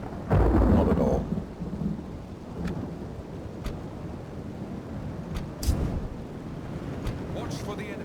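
Rain and thunder in the strategy game Divide and Conquer, a heavy rolling thunderclap near the start, then steady rain hiss with a couple of sharp crackles, under a voice talking.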